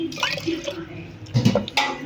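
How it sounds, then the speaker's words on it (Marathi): Water splashes and pours into a metal pressure cooker in short bursts while a person talks over it nearby. "ह्यात आपण ग्लास दोन ते तीन ग्लास छान पाणी घेऊन घेणार आहोत"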